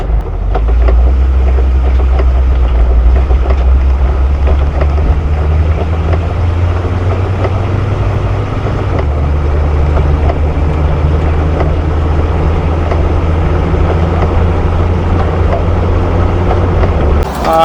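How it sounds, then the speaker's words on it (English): Loud, steady engine and road rumble inside a rattling, bouncy soft-top Jeep, with wind buffeting throughout and no break in the noise. "It's a very bouncy, noisy car."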